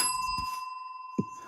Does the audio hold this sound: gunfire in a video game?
no